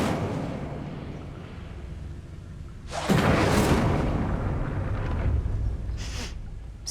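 Incendio fire spell blast in Hogwarts Legacy, a sudden roaring burst of flame that swells loudly over low ambient rumble, followed by a shorter second flare near the end; no talking.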